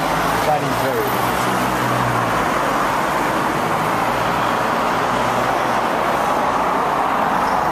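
Loud, steady road traffic heard through an open door, a continuous dense roar of passing cars and heavier vehicles with no break across the whole stretch.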